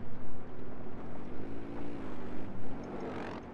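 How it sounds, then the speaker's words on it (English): Rocket truck driving in Battlefield 4, a loud, steady engine drone with a rumbling low hum that rises and swells slightly toward the end, close and continuous with no speech. "I've never used a rocket truck before."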